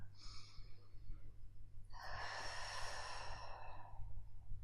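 A single deep, audible inhalation and long exhale during a live Faster EFT tapping session, a broad breathy rush that swells after a brief pause and fades slowly, heard alone over a steady low electrical hum.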